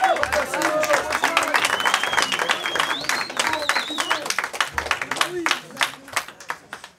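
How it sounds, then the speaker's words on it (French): Crowd applause after a dance battle at a Kick & Clash event, lively clapping with cheers and whistles that gradually thins into scattered individual claps toward the end. "Les applaudissements."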